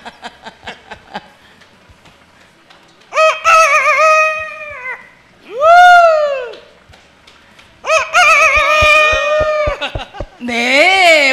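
A rooster call at a Korean lotto number drawing, performed as a cheering crow, comes in several long wavering bursts between chatter and short clicking sounds, loud and near; it may be a person imitating the crow.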